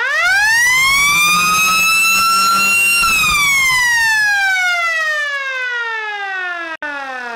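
Homemade electronic security hooter with wireless operation sounds a loud, piercing siren tone that sweeps upward, holds, then slides steadily downward in pitch, alone and very close.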